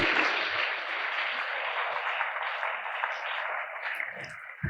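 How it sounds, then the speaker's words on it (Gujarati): An audience applauding on-stage dignitaries at a foundation day event, sustained dense clapping at moderate distance that fades toward the end. "તાળીઓના ગડગડાટ સાથે ઉપસ્થિત તમામ મંચસ્થ મહાનુભાવોને આપણે વધાવી લઈએ"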